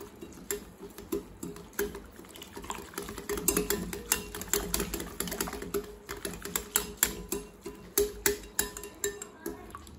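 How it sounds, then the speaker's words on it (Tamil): Wheat flour and water are whisked in a bowl for a halwa, producing quick rhythmic tapping and clinking strokes with soft sloshing, close and steady. "இது கட்டி இல்லாம நல்லா கரைச்சிக்கலாம்."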